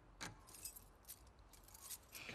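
A bunch of keys jangling in The Last of Us Part II, several quick metallic rattles and chimes, faint and close, with no talking.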